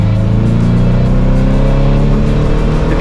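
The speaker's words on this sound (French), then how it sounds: "Et puis vous avez le trajet en ancienne avec le bruit," A classic car's engine drones steadily and loud on the drive to the Le Mans Classic, a strong low rumble with steady harmonic tones filling the whole stretch without pause.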